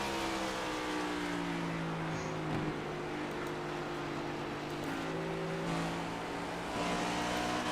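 NASCAR Next Gen Cup race cars drone around the track in a continuous layered roar, several engines overlapping at steady high pitch with occasional passes swelling slightly.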